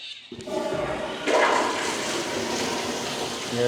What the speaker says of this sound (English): Give it one more flush.